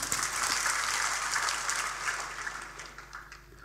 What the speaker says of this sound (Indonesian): Beri tepuk tangan untuk kebenaran ini.